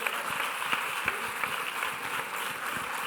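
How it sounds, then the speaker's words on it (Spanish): Fairly faint, steady applause from a seated audience at a cancer awareness conference in Coria del Río, a continuous patter of clapping lasting about three seconds. "Fuerte el aplauso para ellos."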